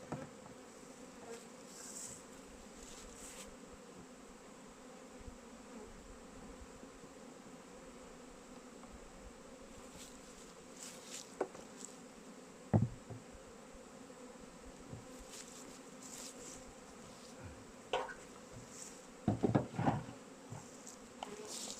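Honey bees hum steadily around an open beehive while it is being fitted with a honey super for production, a continuous low drone with occasional louder passes of individual bees close by.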